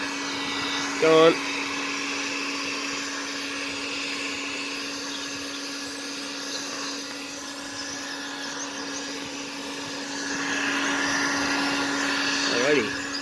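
A heat gun blows steadily over a printed vinyl graphic to clear an air bubble, a loud continuous whooshing hum throughout, with a brief spoken word near the start.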